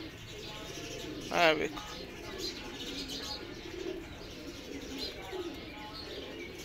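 Pigeons coo and chirp softly in a loft, a brief louder call early on followed by faint cooing, while someone speaks over them.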